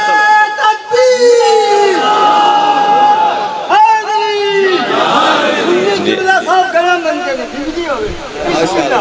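A religious gathering crowd at a Shia majlis chants slogans in unison, loud sustained voices rising and falling in repeated phrases, with a lead voice and the mass of people answering close by and filling the space.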